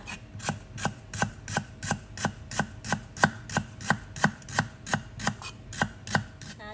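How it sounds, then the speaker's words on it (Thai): A knife slices lemongrass thinly on a cutting board, a steady rhythm of about twenty crisp, evenly spaced chopping taps with no talking. "จากนั้นก็จะมาซอยตะไคร้ค่ะ ซอยบางๆเหมือนกันนะคะ"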